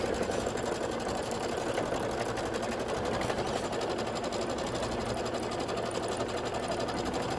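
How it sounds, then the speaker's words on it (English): An embroidery sewing machine stitches quilting detail on a Kimberbell pet pouch project with Hoffman Speckles fabric, a fast, steady mechanical whirring and rapid needle clatter running continuously at an even level. "it wants you to stitch the back quilting detail"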